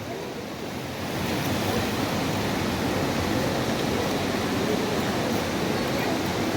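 The Ağasar stream near Trabzon rushing hard in the rain, a loud, dense and constant roar of flowing water close by that swells after the first second and holds steady with no voices.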